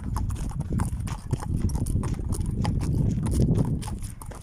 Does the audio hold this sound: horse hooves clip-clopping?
yes